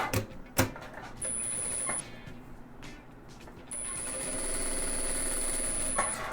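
A sewing machine stitches a pineapple quilt block for a cushion, giving a steady mechanical whir with a high whine and a few sharp clicks early on. It runs close and alone, pausing briefly midway.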